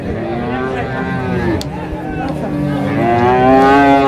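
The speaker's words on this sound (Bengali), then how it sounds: "এখানে প্রচুর গরু আমদানি হয়েছে আজকের হাটে।" Cattle low loudly and close by at a crowded village cattle market in Dhamrai, several overlapping moos with long harmonic calls rising and falling against a busy background murmur.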